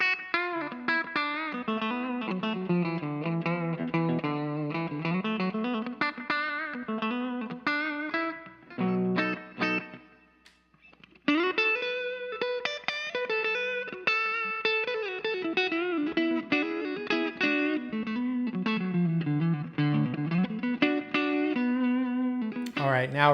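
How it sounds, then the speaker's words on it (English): Clean electric guitar through an Orange O-Tone 40 1x12 combo with mids backed off, spring reverb, light compression and slapback delay, playing a continuous melodic phrase with a brief dip near the middle, loud and close. "pretty much straight ahead clean, backed off the mids, took off the tremolo, got the spring reverb on, a little bit of compression and some slap back delay"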